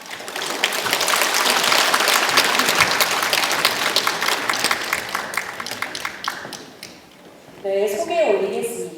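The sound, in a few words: audience applause welcoming experts entering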